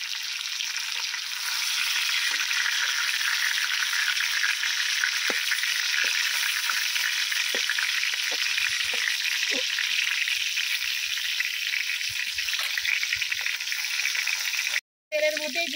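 Pieces of pointed gourd (potol) fry in hot oil until reddish, giving a loud, continuous sizzle with faint stirring clicks throughout, briefly cut off near the end.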